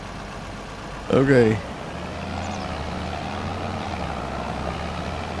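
Tractor engine idling in a farming video game, a steady low hum running throughout the clip, with a short spoken word near the start.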